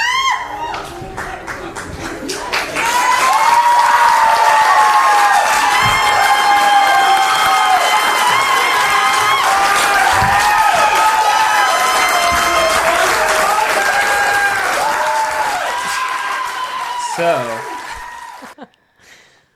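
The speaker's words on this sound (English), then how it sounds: "the crowd erupts" A crowd erupts in loud cheering, clapping and excited shouts at a proposal, rising quickly and holding steady before fading out, with voices calling out amid the noise.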